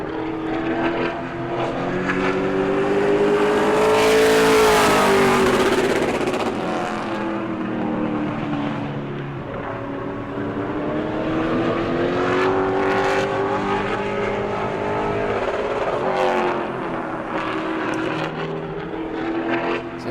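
The number 17 Pro Late Model race car roars around New Smyrna on a qualifying lap, its loud engine steady and close, the pitch rising and falling as it works through the corners and down the straights.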